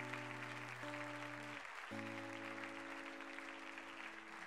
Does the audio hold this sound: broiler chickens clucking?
no